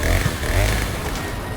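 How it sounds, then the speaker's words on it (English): Chainsaw revving from the Resident Evil 4 Remake game, wielded by the bag-headed villain Dr. Salvador, a loud continuous motor drone running steadily throughout. "Chainsaw in hand, he is out for your head"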